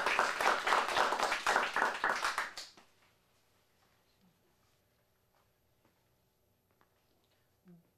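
Audience applause at a teen theatre showcase, a dense burst of many hands clapping for about three seconds before fading out into near silence with faint rustles.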